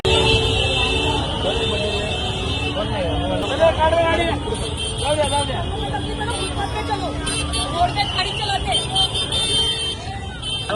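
A traffic jam near Lalbaug in Mumbai during Ganesh festival crowds, with engines idling, repeated car and bus horns, and a constant babble of devotees close by, people talking throughout.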